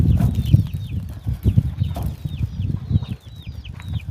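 Several hens, including laying hens, cluck softly and repeatedly nearby, with a few higher chirps mixed in over a low background.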